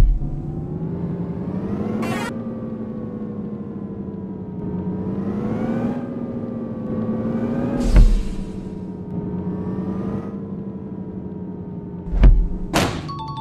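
A bus engine in an Indian bus simulator video game revs and accelerates in repeated rising and falling surges, loud and steady, broken by a few sharp thumps and clicks.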